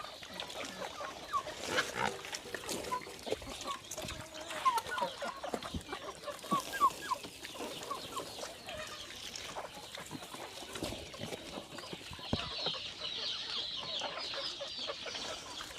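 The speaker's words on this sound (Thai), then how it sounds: "ให้น้องหมูได้กินด้วยให้น้องไก่ได้กินด้วย" Chickens clucking and pigs grunting at feeding time on a farm, a busy mix of close squawks and snorts throughout, with occasional quiet human voice in the background.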